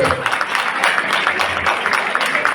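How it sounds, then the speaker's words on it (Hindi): Audience applause at a BJP party gathering in Timarpur, Delhi, welcoming a new member, a dense steady patter of many hands filling the whole stretch at fairly close range. "जोरदार तालियों से आप लाला जी का स्वागत और अभिनंदन करें"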